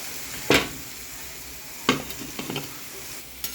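Knorr chicken cubes fry in a pan with oil, bursting into a few sharp, close sizzles as they are stirred, with a quieter hiss in between.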